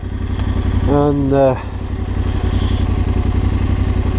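Yamaha Tenere 700 motorcycle engine running steadily while riding off-road, a constant low drone throughout, with a voice speaking briefly over it.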